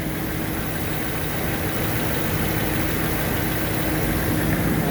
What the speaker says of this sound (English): So first impressions, sounds a lot better.